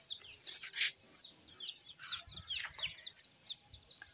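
Chickens and young chicks cluck and peep in short, overlapping bursts, fairly close and moderately loud, with repeated high chirps scattered throughout and no talking.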